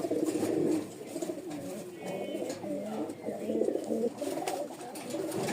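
Lal Sundori pigeons cooing close by, repeated soft throaty coos in overlapping bursts throughout, with faint background chatter.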